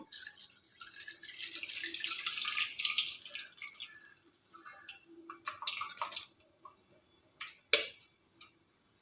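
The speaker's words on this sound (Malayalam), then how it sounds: "ഞാനൊരു വലിയ പാത്രമാണ് എടുത്തിട്ടുള്ളത് ഇതിലേക്ക് നമുക്കിതിനെ അരിച്ചൊഴിക്കാം" Cooled rosemary water is strained into a large vessel: a steady pouring splash for a few seconds, then a quieter trickle and a few scattered drips close to the microphone.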